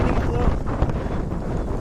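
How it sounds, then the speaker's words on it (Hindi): Strong wind blows hard and steadily into the microphone outdoors, a loud continuous roar with rumbling gusts filling the whole clip. "यहाँ पर कितनी ज्यादा जोर की हवा चल रही है"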